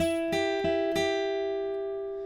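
Electric guitar notes picked back and forth between two strings, four clear plucks in steady rhythm, then the last notes ring out and fade.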